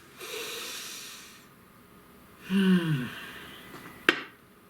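A single deep, audible breath drawn in close and slow, followed by a soft exhale, in a quiet setting before a calm meditative reading.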